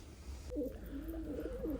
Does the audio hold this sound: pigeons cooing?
yes